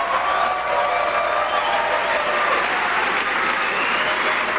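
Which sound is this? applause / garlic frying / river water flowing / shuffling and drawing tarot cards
applause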